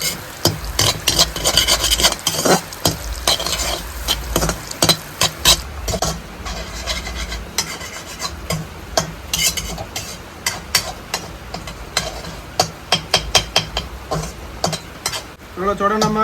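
Masala is being stirred into curry in a pan, a continuous scraping and rubbing of spoon against metal with quick repeated strokes under a light sizzle, fairly close and loud.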